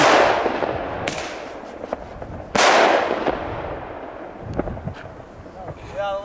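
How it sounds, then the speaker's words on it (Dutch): A German Weco Kanonslag firecracker bangs sharply nearby, with a second loud blast a moment later, each burst decaying into rumbling echo amid wind noise and faint background sounds. "Dit is dus zo'n Duitse knaller van de Aldi."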